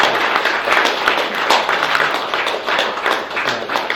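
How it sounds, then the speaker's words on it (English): Audience applause at a policy event on European security, dense and steady clapping filling the whole stretch with many sharp hand claps, fairly close and loud, with no talk over it. "I'd like if people could give a really big round of applause to our speakers"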